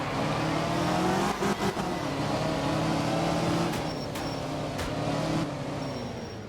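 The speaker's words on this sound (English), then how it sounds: "I'm gonna do a lot more drifting this time." Rally car engine revving and drifting in the video game Art of Rally, a steady loud engine drone with shifting pitch as the car slides, broken by brief tire scrubs and bursts.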